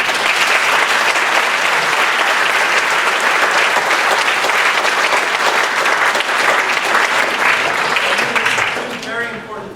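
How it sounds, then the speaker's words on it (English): A school concert audience gives a loud, sustained round of applause in a middle school spring concert hall, dense clapping filling the room close and steady before tapering near the end as a voice begins speaking. "Big round of applause."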